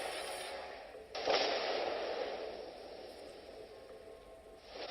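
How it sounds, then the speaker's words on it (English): Warship guns fire a volley in a naval video game, a single heavy blast followed by a long rumbling roar that slowly fades, with no voices. "I unleash a volley just as I can see him"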